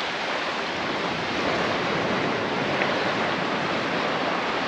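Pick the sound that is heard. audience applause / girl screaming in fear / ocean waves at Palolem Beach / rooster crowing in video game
ocean waves at Palolem Beach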